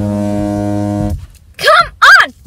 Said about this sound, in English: Don't you honk your horn at me!